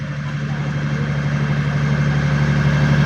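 A boat engine passing along a river in Alappuzha, a steady droning hum that slowly grows louder and stays prominent and near throughout.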